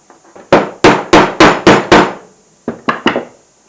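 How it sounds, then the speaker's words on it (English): Loud metallic hammer blows at close range driving a bearing onto a pump axle: six evenly spaced strikes, a short pause, then three quicker taps. "we need to hammer the bearing onto the axle"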